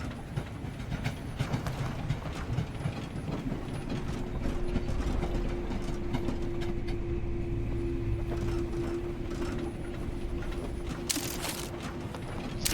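A train rolls along in the VoidTrain video game, giving a steady mechanical rumble with rattling, clanking gears and ratchet-like clicks throughout, fairly loud and with no talk.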